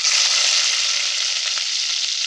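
Onions and whole spices sizzle in hot oil for egg biryani, a bright, steady hiss close to the pan that stays loud and even with a faint crackle.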